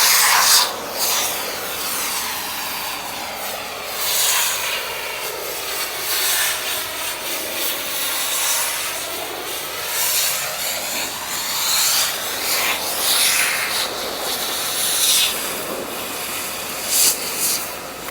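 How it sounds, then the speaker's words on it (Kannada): A Rimsha pressure washer jet cuts through four-layer cardboard, giving a loud continuous roaring hiss with surging, wavering pressure swells and sharp spray bursts throughout, heard up close. "4 ಲೇಯರ್ ಕಾರ್ಡ್ಬೋರ್ಡ್ ಕಟ್ ಆಗ್ತಿರೋದು ಇದು"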